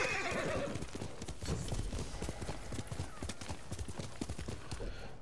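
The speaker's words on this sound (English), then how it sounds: "There you are, horse." A horse in the video game Ghost of Tsushima clip-clops at a steady trotting rhythm, close and clear, with a neigh near the start and the hooves continuing throughout.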